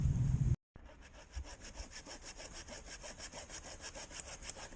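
A small handsaw cuts through wood in quick, regular back-and-forth strokes, close by and steady for several seconds after a brief silent gap.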